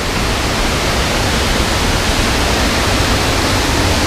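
Waterfall of Hiu Pitu, the first fall along its course, pours in a loud, steady broadband roar that stays unbroken from start to finish with no voices.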